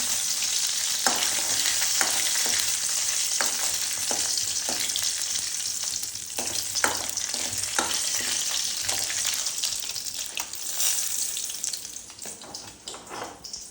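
Steady, bright sizzling of frying in ghee for payasam with repeated stirring scrapes, close and continuous, no voices.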